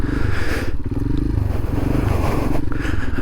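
Royal Enfield Himalayan 462cc motorcycle on a first ride, a loud, close, steady engine drone mixed with wind rush, unbroken for the whole stretch.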